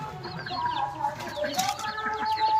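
Very small ducklings on a duck and fish farm in Assam, a busy cluster of thin high peeps and chirps overlapping continuously at close range, with a faint voice in the background.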